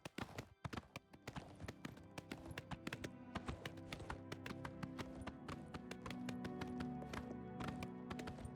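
A horse's hooves clip-clop in a fast, uneven rhythm as it trots along, a game sound from Oblivion Remastered. A faint steady hum sits underneath, and no one speaks.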